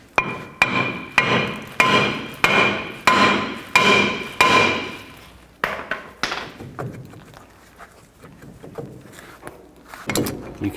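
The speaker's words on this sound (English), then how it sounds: "If it's stuck on there, you can take a hammer and hit in these locations." A hammer strikes a stuck rear brake rotor on a 1999–2007 Chevy Silverado 2500, a dozen or so loud, evenly spaced metallic blows that ring briefly, then lighter, irregular taps and clanks as the rotor loosens.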